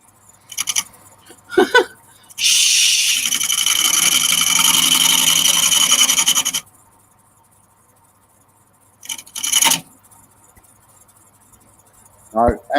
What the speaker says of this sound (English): No, angle your chisel across further. It should be 45 degrees to the lathe bed.